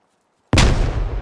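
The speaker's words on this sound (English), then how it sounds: "Oh, here comes a grenade." A grenade blows up in the SquadOps military shooter, arriving as a single sudden, loud blast after near silence and then trailing off in a long, rumbling decay.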